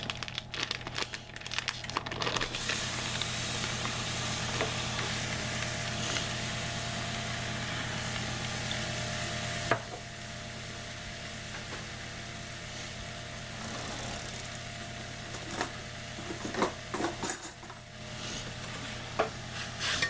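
Organic bacon rendering in a hot saucepan, a low continuous sizzle and crackle at moderate distance, with occasional stirring and scraping bursts and a faint steady background hum.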